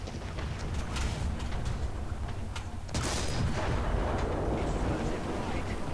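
A tank cannon fires in War Thunder while a German Panzer IV Ausf. G medium tank battles, a sharp blast cutting through constant engine rumble and distant crackling gunfire, with loudness swelling after the shot.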